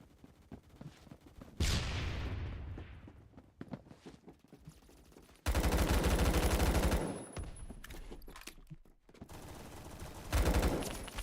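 G36C assault rifle fire in the online shooter Phantom Forces, heard as loud sustained automatic bursts, a long one opening and another in the middle, with a shorter burst at the end, in busy game audio without talk.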